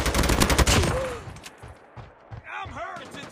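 Gunfire in the video game Call of Duty Mobile: a dense burst of rapid shots up front that thins out, followed by game voice lines and effects.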